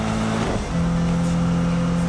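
A Subaru engine drones steadily in the racing game Need for Speed (2015), a loud sustained hum that shifts pitch once midway as it changes gear, with no talk.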